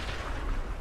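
Explosions in the video game Arma 2 with the Epoch mod make a dense, rumbling roar of booms and crackling blasts that is steady and loud throughout the short moment.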